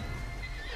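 A horse in the video game Red Dead Redemption 2 lets out a short whinny, heard clearly and alone at moderate volume.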